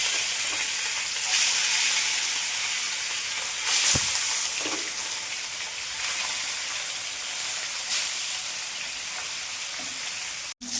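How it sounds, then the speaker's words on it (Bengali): Katla fish frying in hot mustard oil makes a steady, dense sizzle and crackle that runs throughout, with a few louder pops and spatters along the way. No one speaks. "তেলটা গরম হয়ে গেছে, এবার আমি মাছটা একটা একটা করে ছাড়বো।"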